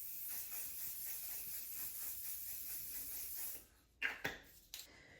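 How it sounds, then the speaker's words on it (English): Hairspray misted from an aerosol can onto hair pinned up in a banana clip: a steady, close hiss lasting a few seconds, then a couple of short sharp spurts. "And then we'll spray with this"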